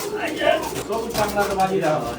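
Pigeons coo and flutter at a large pigeon farm holding ten breeds, a steady low murmur of birds running underneath people talking nearby.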